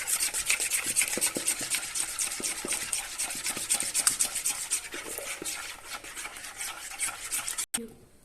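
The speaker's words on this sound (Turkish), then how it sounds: "Şimdi o esnada yoğurdumuzu karıştırıyoruz." A spoon rubs and scrapes steadily through yogurt in a bowl in a continuous rhythmic stirring, close and moderately loud, stopping abruptly near the end.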